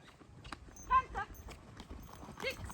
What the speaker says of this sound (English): Canter.